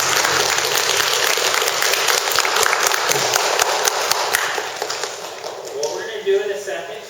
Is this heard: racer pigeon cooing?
no